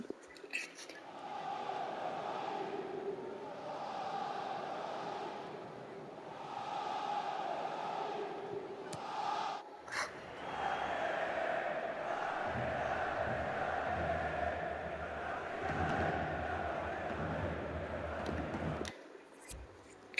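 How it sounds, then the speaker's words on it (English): A stadium crowd chants a club anthem in the football video game FIFA 22, a rhythmic mass of voices rising and falling in waves with a fuller, louder swell in the second half. "might as well get some club anthems going on there"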